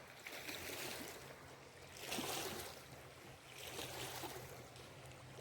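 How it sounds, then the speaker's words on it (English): Water from a lake or creek rushes and washes in broad, steady swells, close and fairly loud, with no voices over it. "I wanted to come on and have you guys listen to just this water for a moment."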